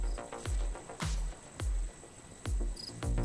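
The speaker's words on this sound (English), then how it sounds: "I do appreciate the crickets in the background, though." Crickets chirp in the background ambience of the survival video game Raft, a faint, steady, pulsing chorus of repeated short trills.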